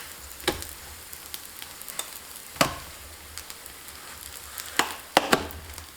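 Scallion flatbread pan-frying in a wok hisses with a steady low sizzle, broken by a few sharp scrapes and taps as the bread is turned and flipped, close and without talk.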